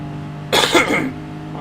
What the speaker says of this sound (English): need to cough. Apologies.